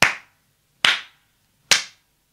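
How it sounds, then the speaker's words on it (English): A princess claps her hands three times, each a sharp, crisp clap with a short decay, evenly spaced in an otherwise silent space. "Then the eldest princess clapped her hands"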